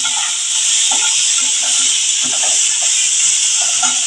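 Ridge gourd pieces tip into a hot pan of oil already fragrant with nigella seeds and green chilli, breaking into a loud, steady hiss of sizzling that holds without letup, with faint scraping of stirring underneath and no talk.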